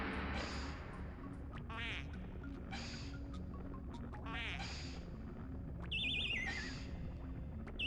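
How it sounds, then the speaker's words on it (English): Duck quacking in the Donkey Kong 64 video game, a series of short nasal quacks repeated over steady game music and ambient background, with brief electronic chime effects near the end. "So, yep, duck quacking."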